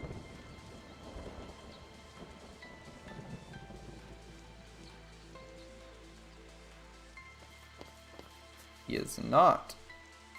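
Steady in-game rain patters under a voice in Final Fantasy XIII, with a loud thunder rumble rolling in near the end.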